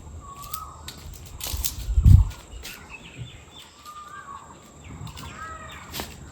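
A crow gathering twigs gives harsh caws outdoors, mixed with faint calls from other birds, a dull thump nearby and a soft background hum.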